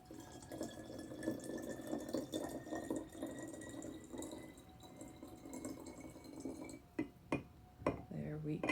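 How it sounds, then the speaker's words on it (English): Water pours and splashes into a container holding a homemade mermaid hair mixture, a steady trickling fill lasting several seconds before a few clinks and shorter splashes at the end, with a person talking over it. "now I'm just gonna top it off with the water"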